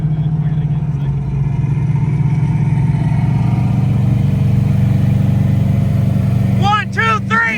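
A car engine, in a race between a supercharged 302 and a big stroker, roars and revs loudly and steadily at high RPM throughout, with a brief squeal-like sweep near the end.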